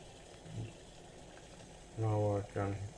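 Half a liter of water heats in a Fissler pot on the stove, giving a low rumble and then two loud bursts of bubbling and hissing near the end, with no one speaking.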